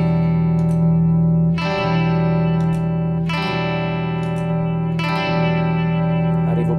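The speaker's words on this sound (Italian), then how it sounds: "Vi faccio sentire di nuovo il chorus, il primo, per farvi sentire quanto non incida sul suono diretto della chitarra." Electric guitar run through an Eventide Rose digital delay pedal set to chorus, a held low drone with three strummed chords swelling in, shimmering and slightly wavering, played alone without talk.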